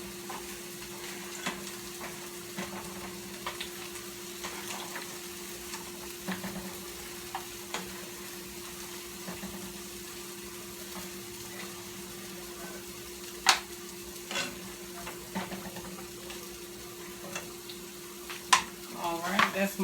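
Okra frying in a pan gives a steady, quiet sizzle with a constant hum beneath it and scattered sharp clicks and scrapes from utensils.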